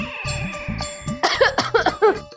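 A string of close, loud coughs, several short hacking bursts in quick succession, the last ones rougher and more voiced, over a faint steady tone.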